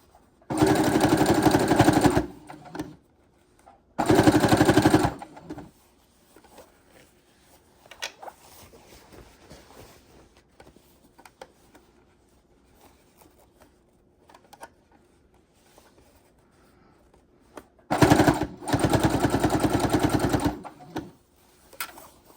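A sewing machine stitching a single row while making a shell dress, running in three loud, steady bursts of rapid mechanical clatter separated by long quiet pauses with faint handling noise.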